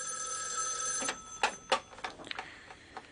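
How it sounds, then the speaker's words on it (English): Old-fashioned telephone bell ringing in a classic radio detective drama, a steady metallic ring that breaks into a series of sharp clicks and knocks as the receiver is handled. "the phone hadn't started ringing again"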